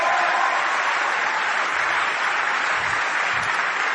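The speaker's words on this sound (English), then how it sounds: "Can you give my wife a big round of applause?" Loud, sustained applause from a large audience at a Hillary Clinton campaign rally in Philadelphia, a continuous wash of clapping that stays even throughout.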